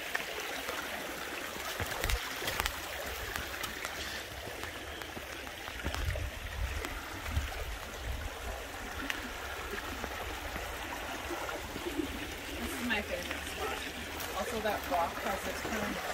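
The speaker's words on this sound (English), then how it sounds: "It's right on the edge of this waterfall, though." Waterfall cascading over rocks in Maple Canyon, a steady broadband rush of falling water heard close, continuous throughout with occasional faint movement and handling noise.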